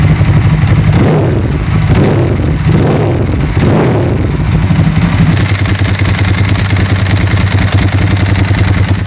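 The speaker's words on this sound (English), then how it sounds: "The Leo Vince exhaust changes the whole sound of this bike" Loud, steady engine of a 2003 Ducati 999R motorcycle fitted with a Leo Vince exhaust, with a deep idle throb and a few throttle blips in the first half before settling into a constant rumble; no talking.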